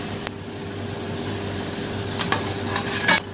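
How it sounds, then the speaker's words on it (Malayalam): Potato nuggets frying in hot oil, a low steady sizzle with faint bubbling, a few sharp clinks of a utensil near the end, no voices. "ബാക്കിയുള്ള നഗറ്റ്സും കൂടെ ഇതുപോലെ തന്നെ അങ്ങ് ഫ്രൈ ചെയ്തെടുക്കാം"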